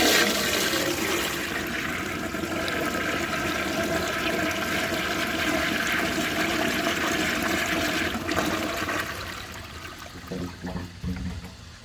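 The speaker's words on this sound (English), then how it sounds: "For the first flush test, let's see how it flushes with a dry bowl." A 1969 American Standard Madera toilet flushes into a dry bowl with a loud, steady rush of water that holds strong for several seconds before tapering into gurgling and trickling refill.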